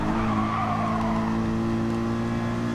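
Tires skid and squeal under hard braking in the Gran Turismo Sport racing game on PS5, a sustained screech over a steady, loud engine drone.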